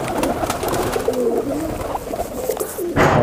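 High flyer pigeons, including a golden female, coo close by in a few soft, rolling calls, followed by a brief louder burst of noise at the end.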